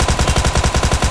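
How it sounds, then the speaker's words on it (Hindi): Rapid automatic gunfire in the BGMI battle royale game, a close, loud, evenly spaced burst of about a dozen shots within a second, with no voices. "अरे वहीं से तो फायरिंग आ रही है"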